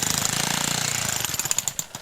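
A jackhammer pounds old concrete around a fence post in rapid, steady bursts, loud and close, its hammering slowing into separate heavy blows near the end.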